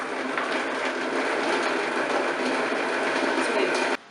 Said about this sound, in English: So I'll go ahead and turn the Vitamix on.